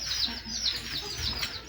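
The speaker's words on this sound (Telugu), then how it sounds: "ఇవి వచ్చేసి కోడి పిల్లలు అనమాట" Chicken chicks peep in a series of thin, high, quick chirps, fairly close and moderately loud over soft background noise.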